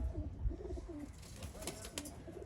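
Pigeons cooing at close range, with soft repeated low coos and a few faint chirps over a light background hum.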